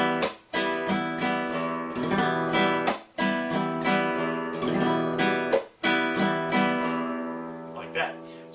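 A guitar plays a steady Latin ballad strum pattern, with ringing chords broken by crisp percussive slaps on the strings at regular intervals, played close and alone.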